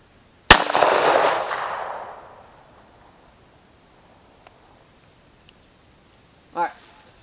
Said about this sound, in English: So now we're gonna be trying the 45 ACP.